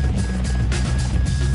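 A V-22 Osprey tiltrotor aircraft of the Marine Corps drones steadily overhead, its rotors and engines giving a loud, continuous throbbing roar with no pauses.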